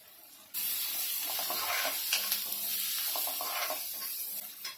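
Onion dropped into hot oil already warming garlic for a fenugreek pithla sets off a sudden, loud, steady hiss of frying that holds evenly with faint crackles.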